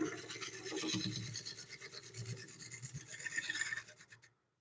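Rhythmic rasping scrape of a tool against a walnut bowl spinning on a wood lathe, close and continuous for several seconds before cutting off into silence.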